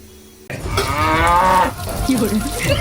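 A cow moos loudly and close, one long drawn-out low call after a brief quiet start, followed by rougher, lower lowing sounds.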